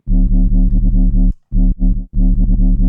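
A synthesized bass shot layered with a sub bass in a modern electronic track, loud and distorted, hitting in rapid rhythmic stabs with two brief gaps, no voices.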